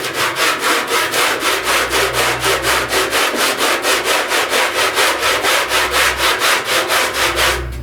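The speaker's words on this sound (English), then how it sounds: "I'll come back when it's ready to sand and we'll sand on it" Steady back-and-forth sanding of body filler on a 1969 Chevrolet C10 front fender patch panel, a rhythmic scratchy rasp repeating about three times a second, close up with no talking.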